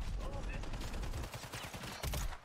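Rapid gunfire bursts from a Warzone match, a close, dense string of shots with a brief pause midway before firing resumes, with no talk over it.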